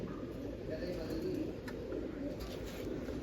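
Low pigeon coos murmur faintly beneath a steady background hum, with a few soft chirps.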